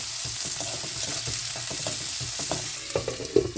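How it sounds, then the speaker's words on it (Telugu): Spring onions are stirred into a frying banana curry, producing a steady close sizzle with soft, irregular scraping and clinks of the spoon that grow sharper toward the end. "స్ప్రింగ్ ఆనియన్స్ అన్నీ వేసుకొని మంచిగా కలుపుకోవాలి."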